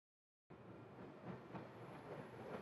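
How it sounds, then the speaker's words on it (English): A subway train rumbles at midnight with a low hum and constant vibration, faint but steady after a brief silence, with soft rhythmic rolling pulses and no speech. "At midnight, the subway always sounded the same. A low hum, a constant vibration,"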